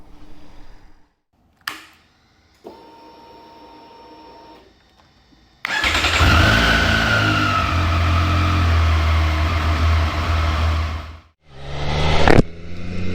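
A motorcycle heads off on the Mikuni mountain pass road, Route 147, in Shizuoka, Japan. A few clicks and a thin idle whine give way to a loud, sustained engine roar as it accelerates, then the sound cuts briefly before another hard rev.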